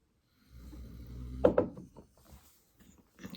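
A man snores loudly indoors, shaking the house, with a low rumbling rise building into a couple of sharp snorting peaks, then fading to softer breaths.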